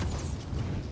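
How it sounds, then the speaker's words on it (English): Grenade explosion in Tom Clancy's The Division, a dense, loud, rumbling boom that fills the whole short moment with heavy low-end roar and no clear attack or tail. "Got that grenade, boy."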